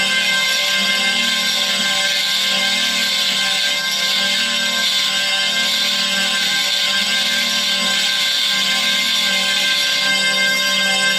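The strings of a self-cranked hurdy-gurdy with sympathetic strings drone and buzz steadily for several seconds, a bright, dense, unbroken sustained tone that stays loud throughout, with no one speaking.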